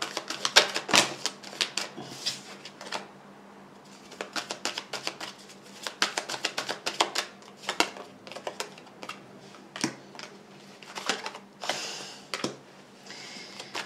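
Tarot cards being shuffled and drawn at close range, a quiet run of crisp, quick clicking flicks and riffles in irregular clusters with small gaps between them.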